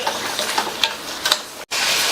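Tomato and tamarind fry in oil for chutney, a soft continuous sizzle with light stirring scrapes, cut by a brief silent break near the end before the sizzling resumes.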